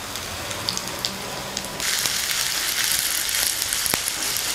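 Ginger paste and curry leaves hitting a pan of fried onions for a capsicum tomato curry, a soft crackle suddenly swelling into a steady, bright, close sizzle.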